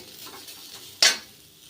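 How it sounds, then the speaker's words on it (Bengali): Chopped taro with onion and garlic fries in a pan while being stirred: a faint sizzle with one sharp utensil scrape across the pan. "একটু হালকা নাড়াচাড়া করে হালকা একটু ভাজি হলে আমি এগুলিকে নামিয়ে নেব"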